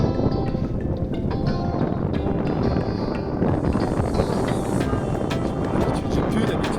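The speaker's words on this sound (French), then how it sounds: "Bon, il y a du vent là." Strong wind buffets the microphone during a bike ride in the Hérault valley near Saint-Guilhem, a loud, steady broadband roar that fills the whole clip with no break.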